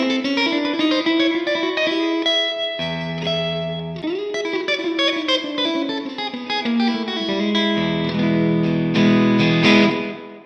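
CP Thornton HTL2 Strat-style electric guitar played through effects with distortion, chorus and reverb, ringing sustained chords and single notes with shifting low bass notes, loud and alone without talk.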